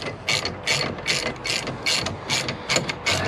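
A ratchet clicks in a steady, evenly spaced rhythm, close and loud with no talk, while winding out the 7mm hex slide bolts on the rear brake caliper of a 2001–2014 Mini One, Cooper or Cooper S.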